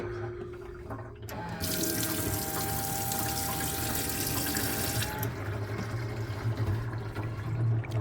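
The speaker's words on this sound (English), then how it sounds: "That's cracking pressure on that tap." Steady rush of water from a tap in a VW T4 Transporter camper van, strong pressure, draining into a grey water tank, running continuously and close after a short quieter start.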